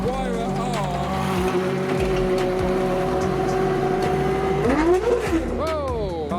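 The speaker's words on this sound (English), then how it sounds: "we've got the Pagani Huayra R." A Pagani Huayra R hypercar passes at speed with a loud, high engine note that holds steady and then swoops in pitch, with a brief tire squeal as it goes by; a voice speaks over it.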